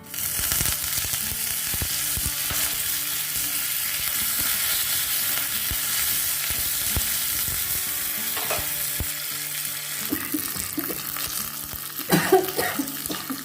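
Curry leaves and mustard seeds crackle and sizzle in hot oil for a sambar tempering, a dense, continuous frying hiss with scattered pops and a few stirring clatters near the end.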